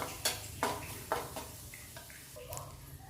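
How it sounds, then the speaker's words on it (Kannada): Vegetable and soya fried rice cooks over a low flame in a pan, with a few sharp scraping and tapping strokes from a utensil over a faint sizzle, close and fairly quiet. "ನಿಮ್ಗೆ ಯಾವ ಫ್ರೈಡ್ ರೈಸ್ ಪೌಡರ್ ಇಷ್ಟ ಆಗುತ್ತೋ ಅದನ್ನು ಸೇರಿಸ್ಕೊಂಡು ಚೆನ್ನಾಗಿ ಫ್ರೈ ಮಾಡ್ಕೊಳ್ಳಿ. ಲೋ ಫ್ಲೇಮ್ನಲ್ಲಿ ಎಲ್ಲ ಫ್ರೈ ಮಾಡ್ಕೊಳ್ಳಿ."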